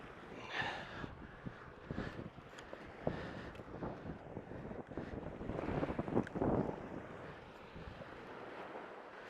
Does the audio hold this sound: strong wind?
yes